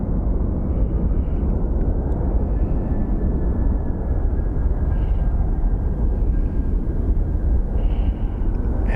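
Jet airliner passing at Phoenix Sky Harbor airport, a loud, steady broadband engine roar that holds throughout without breaks, with no talk over it.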